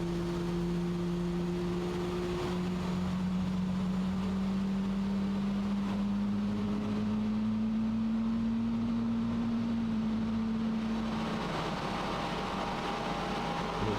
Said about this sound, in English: Really quite impressed with those engine sounds.